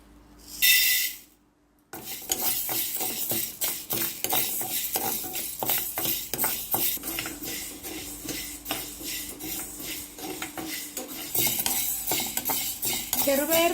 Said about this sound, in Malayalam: ഇനി നമുക്ക് ചെറുപയർ വറുത്തെടുക്കാം.